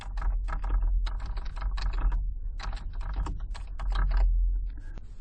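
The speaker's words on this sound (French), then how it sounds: "Je saisis mon texte." Text is typed on a computer keyboard in quick bursts of close, crisp key clicks with short pauses between runs, over a low background hum.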